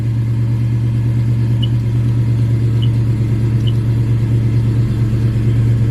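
A 1968 Ford Mustang with a 302 V8 idles while warming up, a steady, loud, low rumble holding even throughout with no change in revs, heard close up and alone.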